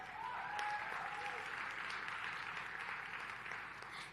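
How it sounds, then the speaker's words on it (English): Faint, distant audience applause at a panel session in Zambia, a soft steady patter of hands from a modest crowd with a brief voice or whistle-like tone near the start. "Please, a round of applause for him."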